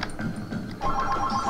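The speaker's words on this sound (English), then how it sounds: "And look, the phone is ringing again for the second time." A telephone rings in the room, a repeating electronic ring that swells partway through and continues steadily over some background sound.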